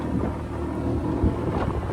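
A boat driven by a Tohatsu 6hp outboard engine runs steadily at sea, its low continuous drone blending with wind buffeting the microphone and water noise, with no talking.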